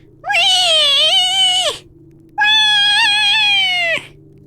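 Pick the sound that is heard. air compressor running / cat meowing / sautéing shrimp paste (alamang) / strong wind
cat meowing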